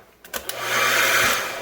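A handheld blow dryer switched on as a makeshift power tester at an electrical outlet, a few clicks and bumps giving way to a steady, loud whooshing fan-and-motor drone that holds to the end, with no talking.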